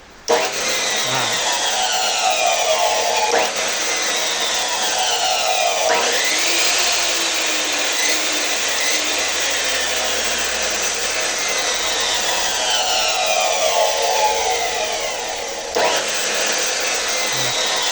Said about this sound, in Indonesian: saya menuju tempat gerinda tadi. Oke, akan saya hidupkan.